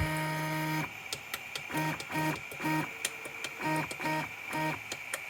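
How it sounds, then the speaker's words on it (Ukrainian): Loud mechanical whirring and stepping from an Anet A8 3D printer, with repeated buzzy tonal bursts in a steady rhythm and sharp clicks, close and continuous. "Бо працюють ці 3D принтери просто як перфоратор."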